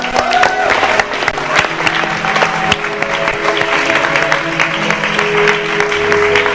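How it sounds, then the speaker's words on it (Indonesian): Studio audience on an Indonesian TV variety show breaks into steady, loud applause, with scattered voices mixed into the clapping throughout. "Tepuk tangan dong."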